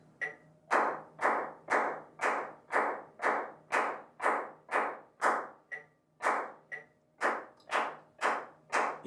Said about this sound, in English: it gives you a nice fat clap